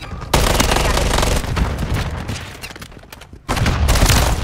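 Dense, loud automatic gunfire from a Call of Duty military shooter, sustained bursts with a brief lull before the shooting resumes, with voices calling out over the combat.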